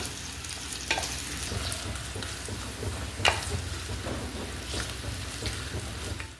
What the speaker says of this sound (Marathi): कांदा हा छान असा तळला जाईल त्या तेलामध्ये